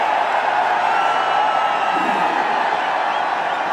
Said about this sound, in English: Have a look at the crowd.